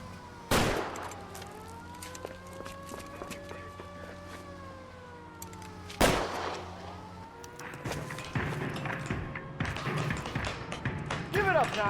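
Gunfire in L.A. Noire: two loud single shots several seconds apart ring over a wailing police siren, followed by a rapid burst of sharp cracks and thuds.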